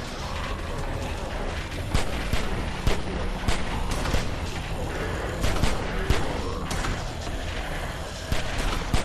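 Rapid bursts of gunfire in The Walking Dead video game crackle continuously, with sharp repeated shots and heavy booms over a dense battle din.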